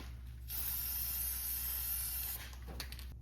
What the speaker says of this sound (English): So just spray that real quick on both sides.